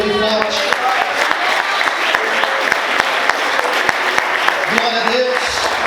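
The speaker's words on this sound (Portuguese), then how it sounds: "Aplauda o Senhor bem forte." A church congregation applauds loudly and steadily in a large hall, a dense wash of many clapping hands, while a voice speaks over it at the start and again near the end.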